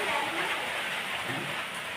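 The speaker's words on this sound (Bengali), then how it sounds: "আর প্রচুর বৃষ্টি হচ্ছে বাইরে" Heavy rain falls outside during a storm, a dense, even roar of drops that stays constant and fairly loud throughout.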